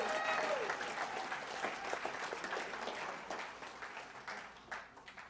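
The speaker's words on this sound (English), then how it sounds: "how about we give a round of applause to Bernard for keeping it in right now" Audience at a business presentation on a compensation plan gives a round of applause for Bernard, a full burst of clapping that starts strong and gradually thins and fades.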